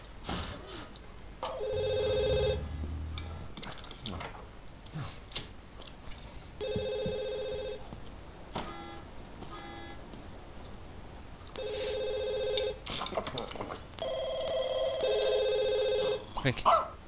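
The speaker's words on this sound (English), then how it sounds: "Quick, answer the phone." A telephone in The Sims 2 Seasons video game rings in repeated electronic bursts with pauses between them, and voices speak in the gaps.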